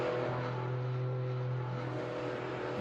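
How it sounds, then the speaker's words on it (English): IndyCar race car engines idle together in a racing video game, a steady droning hum with sustained tonal layers that shift slightly in pitch, moderately quiet and without talk. "That engine is super loud, by the way."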